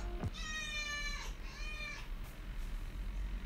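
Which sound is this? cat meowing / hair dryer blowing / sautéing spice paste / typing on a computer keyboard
cat meowing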